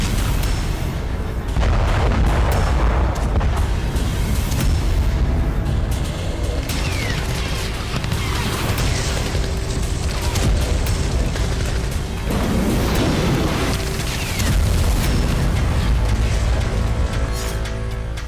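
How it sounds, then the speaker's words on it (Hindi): Russian artillery fire and explosions in urban fighting at Kostiantynivka, Ukraine: heavy continuous rumbling booms and scattered blasts, loud and dense throughout with no pauses. "रूसी आर्टिलरी कोस्तियान्तनिवका के अलग अलग मोर्चों पर बारूद बरसा रही है"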